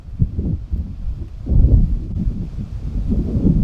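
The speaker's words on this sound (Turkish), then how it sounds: "Rüzgar çıktı." Gusty wind buffeting close to the microphone in low, uneven rumbling bursts, louder around the middle, with no one speaking.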